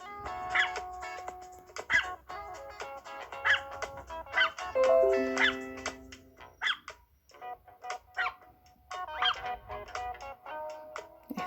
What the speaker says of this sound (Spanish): Y hace guau, guau, guau, guau.